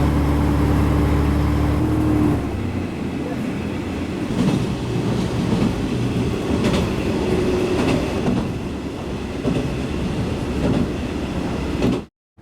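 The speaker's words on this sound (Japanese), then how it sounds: "琴平行きは阿波池田駅を発車。" A JR Shikoku Dosan Line train bound for Kotohira rumbles away from Awa-Ikeda Station, starting with a low engine drone that gives way to steady rolling rail noise and faint clacking, close and continuous.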